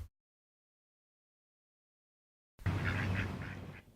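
Ducks at a pond quack and honk in a short series of calls after a long silence, moderately close over some low outdoor rumble.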